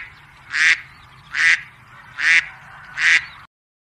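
A cartoon-style duck quacking in a children's phonics alphabet song, four evenly spaced loud quacks about one second apart, clear and alone over a faint musical background.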